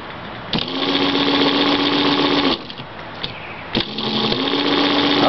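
A 7kW Colossus electric motor spins up with a steady whine that holds, cuts out, then resumes, alongside a rough mechanical rattle, loud and close-up.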